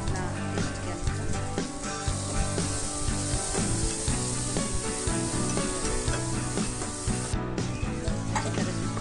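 Masala spices frying in oil in a pan for an Indian boiled-potato curry, a steady dense sizzle with light stirring scrapes, close and continuous, with a broad hiss throughout and no speech.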